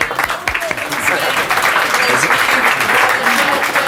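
A studio audience on a French talk show breaks into applause, quickly building to a dense, sustained clapping with voices mixed in.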